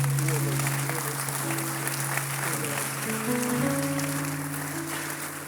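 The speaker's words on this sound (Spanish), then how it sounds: "Dale un aplauso al Señor." A church congregation applauds in a sustained wash of clapping while sustained music tones and voices carry underneath, fairly loud and continuous.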